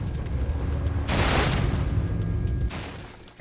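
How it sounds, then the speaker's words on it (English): A Cannon Tower collapsing in the Warcraft III strategy game, heard as a loud crumbling, booming burst lasting about a second and a half, layered over ongoing game sounds. "Cannon Tower going down and back play."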